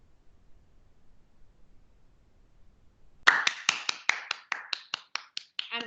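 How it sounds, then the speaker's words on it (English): One person clapping alone during a virtual community meeting, a run of about a dozen sharp, close hand claps that start after a near-silent pause and slow slightly toward the end. "I'm clapping on behalf of our audience."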